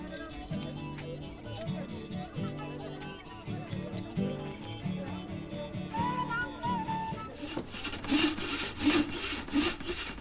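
A craftsman who turns tree trunks into furniture hand-saws through a wooden trunk, a rhythmic back-and-forth rasp of strokes heard close and steady, growing rougher and louder toward the end.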